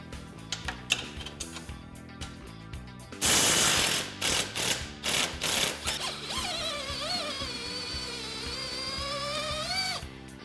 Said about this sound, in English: remove the lower A-arm bolts by using a 15mm wrench